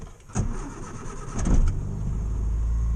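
A Morris Minor car engine cranks and catches, a brief starter whirr followed by the engine firing up, a rise in revs, then settling into a steady low idle, close by with no talking.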